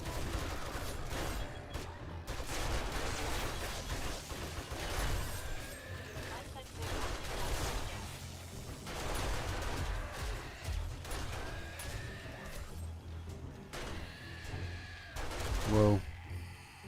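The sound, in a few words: turret firing in the video game 7 Days to Die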